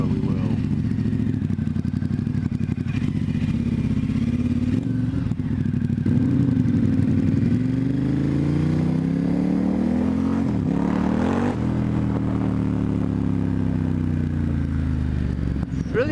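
A Ducati X Diavel S motorcycle fitted with a Termignoni exhaust rumbles close by, its engine note rising and falling through revs and shifts while a voice talks over it.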